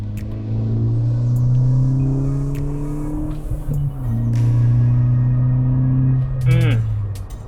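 A VW MK6 GTI with a short shifter revs up through a gear, drops briefly on the shift, then pulls again with a steady loud engine drone, ending with a short rev blip and clicks.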